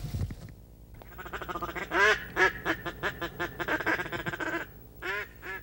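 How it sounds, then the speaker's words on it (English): A group of ducks quacking at a Michigan outdoor hunting spot, a rapid run of loud, close, nasal quacks in rhythmic bursts, pausing briefly before a final short volley, with no talking. "Ducks respond to calls"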